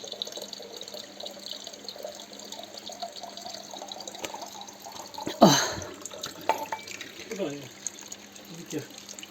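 Spring water running and splashing from a pipe, with a louder gush midway, while people talk nearby.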